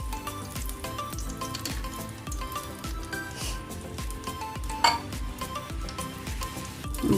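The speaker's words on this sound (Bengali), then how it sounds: "এখন আমি একই প্যানে সামান্য একটু তেল দিয়ে আমি বাকি মশলাগুলো দিয়ে দেব।" Bay leaf, black pepper, clove and cardamom frying in a little oil in a pan, giving a soft continuous sizzle with regular light stirring scrapes and one sharper clink.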